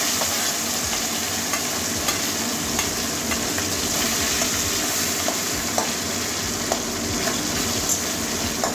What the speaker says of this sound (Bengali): এবারে মাছের মাথাটা আবারও দিয়ে দেবো